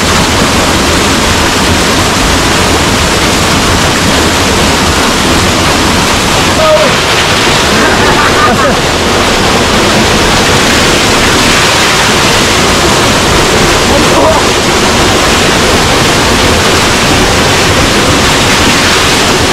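Mountain waterfalls and a river in Bidyang Valley, Kalimpong, roar loudly and without a break, a dense, steady rush of water that fills the whole scene.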